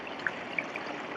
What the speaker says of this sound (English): And now we have an 8-foot pondless waterfall.